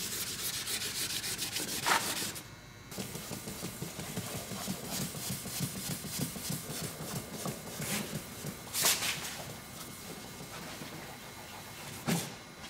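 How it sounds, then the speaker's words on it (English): A plastic bumper cover is hand-sanded with 1500 grit sandpaper in steady, rhythmic back-and-forth rubbing strokes, close and fairly quiet, with a few sharper scuffs and short pauses. "after we're done sanding down our panel with 1500 grit sandpaper"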